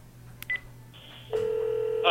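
A phone call placed to one's own Google Voice number rings through, with short tones followed by a sustained steady electronic ringing tone that grows louder toward the end, heard alone.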